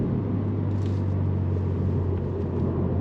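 A Subaru WRX with a CVT automatic transmission accelerating, heard as a steady low engine rumble with a sustained droning tone from inside the car, with no talking.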